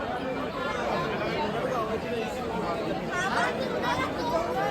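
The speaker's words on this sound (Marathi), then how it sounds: "गर्दी बघा भरपूर" A large crowd chatters at a palkhi procession, a dense, steady babble of many overlapping voices close around, continuous with no single voice standing out.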